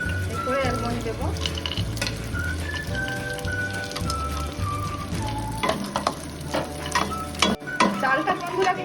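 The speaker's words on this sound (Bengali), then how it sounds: "একে একে আমি সব ড্রাই ফ্রুটগুলোই ভেজে নেবো দিতে।" Cashews, raisins, almonds and other dry fruits frying in a pan for Kashmiri pulao: a continuous close sizzle with scattered spatula clicks and stirring clatter, getting busier toward the end, with no talking.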